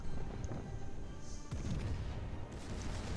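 Heavy naval guns of the battleship Arkansas firing in a warship game, deep booming blasts with rumbling decay and a sharp report near the middle, over steady background game noise.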